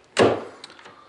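The door of a Ford Crown Victoria opens with a sudden close unlatching clunk, followed by fainter clicks and light rattles as it swings.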